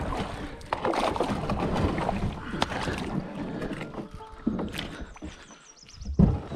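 A boat is paddled through shallow water and bottoms out, with continuous close splashing and paddle strokes, wind buffeting the microphone, and a few dull knocks against the bottom.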